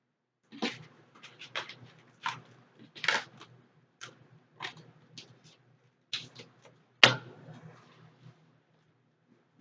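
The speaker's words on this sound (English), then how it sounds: "I'm gonna shuffle one more time." Cards being shuffled by hand during an intuitive energy reading: a series of brief, crisp riffling bursts spaced a second or so apart, close by in a quiet room, ending with one louder snap.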